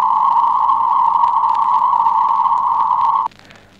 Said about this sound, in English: White noise filtered so as to produce a sound with a definite pitch.